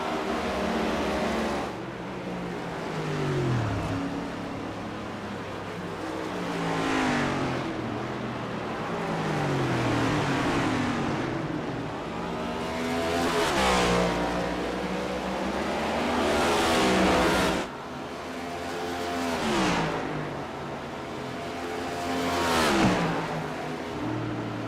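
Next Gen Cup Series race cars lapping the Roval in a racing video game, engines rising and falling repeatedly as cars pass and accelerate, loud and continuous with recurring swelling roars.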